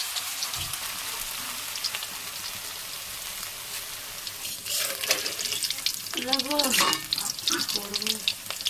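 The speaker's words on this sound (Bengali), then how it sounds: "এক এক করে ব্যাটারে চুবিয়ে নিয়ে গরম তেলে ভেজে নিলেই হয়ে যাবে আমার পকোড়া" Battered spinach-leaf pakoras frying in hot oil: a bright continuous sizzle that swells as pieces go in, with a voice speaking over the later part.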